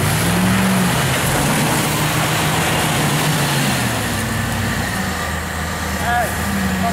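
At a mud ride, an off-road vehicle's engine revs and wavers in pitch as its wheels spin in the slop, with people talking nearby.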